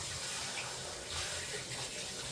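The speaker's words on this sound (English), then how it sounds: "Okay, wash my hands, but I'm not going to use any soap." Water from a kitchen tap runs steadily while someone washes their hands during cooking. The stream is a continuous close splashing hiss with no talk over it.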